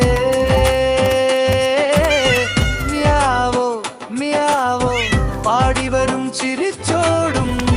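Repeated cat meows, loud and close, ring out one after another over a bright, melodic music backing.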